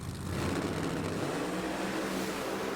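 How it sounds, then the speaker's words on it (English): A 959 cubic inch nitrous Pro Mod drag race car idles at an NHRA event in Las Vegas, a loud, dense, rough rumbling roar that stays steady and heavy throughout. "Listen to the idle of this car. 959 cubic inches just thumping away there for Thielen."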